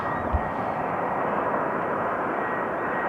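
A fixed-wing airliner arriving on runway 18R at Amsterdam Schiphol Airport, its engines giving a loud, continuous broadband roar that holds steady throughout, heard from near the runway with no talk.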